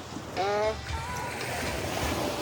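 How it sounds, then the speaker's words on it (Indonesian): Surf rolling onto Kaluku beach in Donggala, a steady wash of waves and wind, with a brief tonal voice or call rising over it near the start. "sekarang kita berada di Pantai Kaluku"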